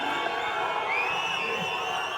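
Large audience at a film pre-release event on stage cheering and whooping, with a rising whistle cutting through the dense, steady crowd roar for a couple of seconds.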